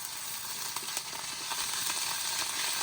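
Ginger paste frying in hot oil with bay leaf, cumin and slit green chillies, a dense continuous sizzle and hiss with occasional soft stirring knocks close by.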